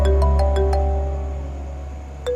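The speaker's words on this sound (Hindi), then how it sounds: "अदील फोन क्यों नहीं उठा रहा है?" A phone rings on and on with nobody answering, its bright electronic tone repeating in steady pulses over a low background hum.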